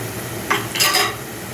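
Greens frying in a pan for bundiya payesh give a soft, steady sizzle, with a couple of brief scraping stirs near the middle.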